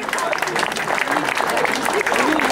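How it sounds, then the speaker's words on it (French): Applause for Ludovic Poilbet, solo winner of the Étoile de Tressignaux 2015 bike race, rolls on steadily for the whole stretch, a dense, close patter of many hands with a crowd's murmur woven underneath. "ça mérite vos applaudissements des plus fournis pour Ludovic Poilbet"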